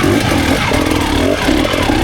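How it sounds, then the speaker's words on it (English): A dirt bike engine revs hard and harsh right before a rock ledge on a steep, rocky hill climb, a loud, rough, continuous mechanical roar with rising and falling revs. "So starting with Phong, look how he revs his bike extremely hard just before a rock ledge"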